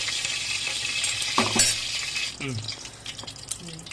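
Urad dal crackling and sizzling in hot oil in a pan for a mango capsicum masala curry, a steady close frying hiss with occasional utensil clinks and brief talk over it.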